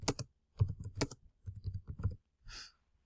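Quick bursts of keystrokes on a computer keyboard as a book title is typed, close and clear, in short clusters with brief pauses between words and a softer tap at the end.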